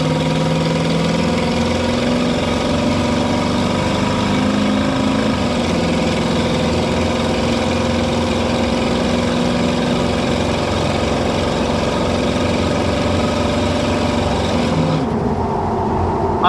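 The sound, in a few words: pickup truck engine and exhaust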